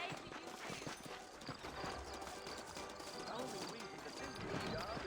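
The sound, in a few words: horse hooves in video game Red Dead Redemption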